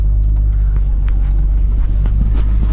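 1980s Chrysler LeBaron driving on the road, a loud steady low engine and road rumble heard from inside the car, with no talking.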